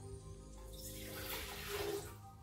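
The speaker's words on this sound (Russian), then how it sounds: "наливаем воду." Cold water runs quietly from a tap into a kettle for Turkish tea, a soft steady trickle heard alone for a couple of seconds.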